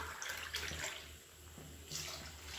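Water pours steadily into a pot of rice and coconut milk being cooked for lunch, a close continuous splashing stream with no talk.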